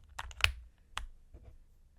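Typing on a mechanical keyboard fitted with Gateron North Pole switches, a few separate keystrokes heard close up and alone, with a sharper clack near the start and softer taps afterward.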